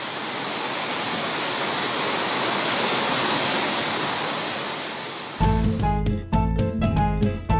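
Two clear streams at Rio Celeste near Tenorio Volcano, Costa Rica, rush together in a loud, steady wash of water that fills most of the span before music abruptly takes over near the end.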